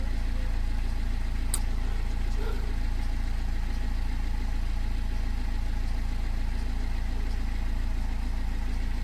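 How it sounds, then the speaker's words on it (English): A BMW E60 520d diesel engine idling steadily while warming up to temperature, a constant low rumble with a faint, even hum and a brief higher click near the start. "Let's run the engine up to temperature"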